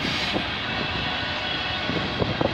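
A CN freight train with tank cars rolls past at close range, a steady rumble of wheels on rail with rhythmic clunks near the end, with no voices.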